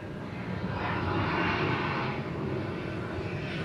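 A fixed-wing airliner's engines roar steadily at Atlanta's airport, a dense continuous drone that swells slightly through the middle and stays strong throughout, heard outdoors from the spotting area.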